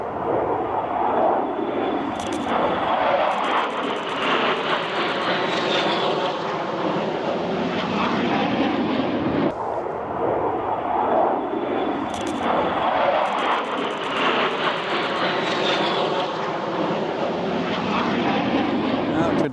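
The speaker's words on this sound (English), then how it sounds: "2 F-18 Growlers, the electronic warfare version of the F-18 Super Hornet, and 2 F-35Cs" F-18 Growler and F-35C Navy jets returning from an air show near Los Alamitos fly overhead in a continuous, loud broadband roar that swells and fades.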